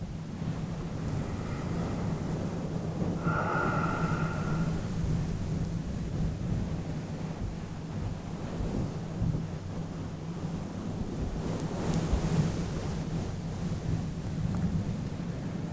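A fuzzy microphone cover being rubbed gives a long, close, rumbling surf-like wash with slow surges and a brief brighter scrape near the end, over a constant low hum.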